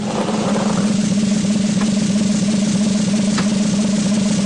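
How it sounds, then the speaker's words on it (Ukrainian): Lottery draw machine running on a TV lotto show, a loud, steady motorized hum with a continuous low drone and faint rattling clicks, no speech. "Прошу вімкнути наш лототрон."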